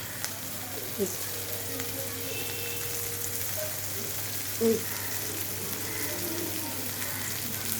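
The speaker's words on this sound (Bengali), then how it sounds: "আর এগুলো কিন্তু সম্পূর্ণ ছাকা তেলে ভেজে নিতে হবে পুরো ডুবো তেলে এটা ভাজলে ভালো হয়" Food for a breakfast sooji upma recipe deep-frying fully submerged in hot oil, giving a steady, soft sizzle and crackle throughout with a brief louder pop near the middle, with no one speaking.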